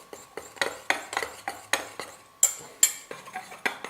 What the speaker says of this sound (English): 1/4 cup of baking soda. 1/4 cup of arrowroot powder. And then we're going to stir that really well.